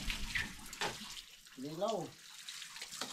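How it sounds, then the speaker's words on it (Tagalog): Mountain spring water flows steadily on an island, a soft continuous splashing stream close by, with a person speaking briefly over it. "Ayan ang tubig galing sa bundok."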